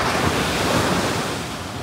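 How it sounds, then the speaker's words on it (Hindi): Stormy ocean waves crash steadily on Madhavpur beach in Gujarat, a loud continuous roaring surf mixed with wind buffeting the microphone. "ओ ये लहर देखना"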